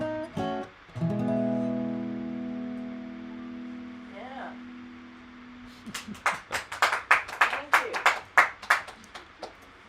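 Small audience of three people at a live-streamed music session in Utah clapping after a sustained sung or played note fades, the claps building into a brief, close, loose round of applause.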